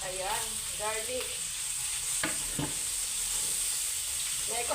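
Garlic fries in a pan with a steady, loud sizzle, and a utensil stirs it with a few scraping strokes.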